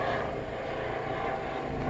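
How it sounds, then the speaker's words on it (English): Helicopter passing overhead outdoors near a parked 2019 Chevy Cruze LT: a steady, broad rumbling drone with no clear rotor beat, fairly faint and distant, continuous throughout without talk. "there's a helicopter going by"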